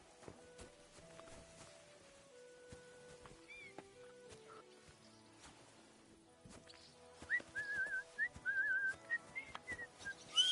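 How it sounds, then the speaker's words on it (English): A character whistles a wandering, melodic tune in Kingdom Come: Deliverance II, becoming louder and more continuous toward the end over soft game ambience and scattered footsteps. "Stop that whistling. You're behaving like a child."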